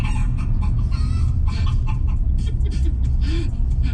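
People imitate a chicken, clucking in quick repeated bursts that sound close and fairly loud over a steady background hum.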